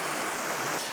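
The stepped waterfall in Hobakso valley, Miryang pours with an unbroken, broadband rushing roar, loud and close and steady throughout.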